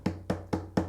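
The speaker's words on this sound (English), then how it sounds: "You can hit that with your nails against the wood" Fingernails strike the wooden body of an acoustic guitar four times in an even rhythm, each a sharp, close percussive tap with a short low ringing body resonance.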